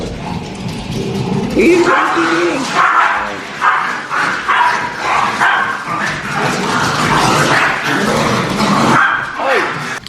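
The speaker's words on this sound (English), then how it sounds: "That is a dog outside barking." A dog barks outdoors with repeated yips and barks, heard indoors from a distance while people talk over it throughout.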